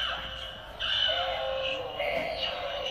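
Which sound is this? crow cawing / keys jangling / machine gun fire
crow cawing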